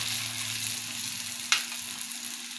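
Lumpiang gulay fry in oil in a pan, a steady, close, crackling sizzle with a low hum under it and one sharp pop midway.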